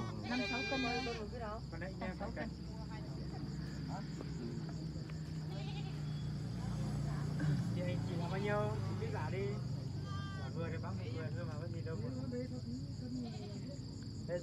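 Goats bleat amid a busy livestock market in Vietnam's northwest, their calls rising now and then through a steady crowd murmur while people bargain and chat nearby.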